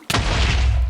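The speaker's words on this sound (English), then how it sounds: "And there's an explosion." Explosion in the Minecraft video game, a single sudden loud boom that hits hard and then sustains a heavy rumbling roar for about a second.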